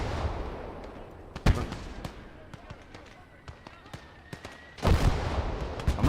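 Gunfire in the video game Gates of Hell during a hardcore USA campaign mission: sharp scattered shots and a few heavy, louder blasts crack out over a background rumble, with a voice talking across it.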